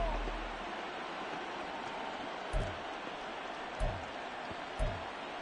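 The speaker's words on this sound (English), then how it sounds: "Plenty of shouts from this crowd as they watch the replay." A football stadium crowd roars in a broad, steady wash of noise while a replay is watched, with a few brief thumps standing out above the sustained din.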